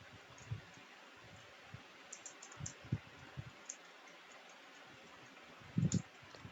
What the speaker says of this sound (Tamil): ஸோ இந்த மாதிரி மெசேஜ் டைப் பண்ணி நம்ம அனுப்பலாம்